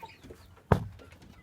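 A hen on a rooftop gives a single short, loud cluck at close range amid faint background rustle.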